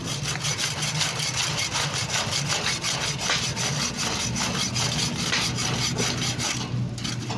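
Wood being sawn by hand for a gate, a steady rapid back-and-forth rasp of strokes repeating evenly throughout, close and loud.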